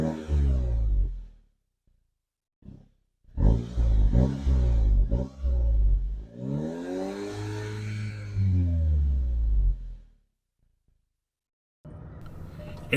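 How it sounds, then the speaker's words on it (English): A Volkswagen Golf GTI's stock exhaust with heavy muffler revs several times, each rev rising in pitch then falling back, loud and close, with muffled idling between revs. "exhaust with the heavy muffler."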